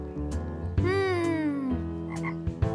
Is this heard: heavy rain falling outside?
no